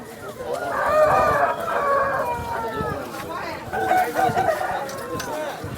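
Roosters at the Vijayawada rooster market crow in drawn-out calls with clucking around them, fairly close amid the bustle of the market, with a person talking over the birds.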